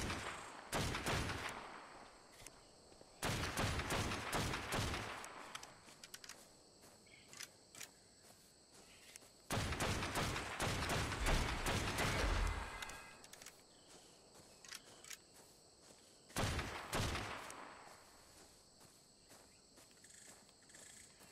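Gunfire aimed at the Broodmother in Ark Survival Evolved on Xbox One comes in four or five separate bursts of rapid shots, moderately loud, with quieter stretches between them.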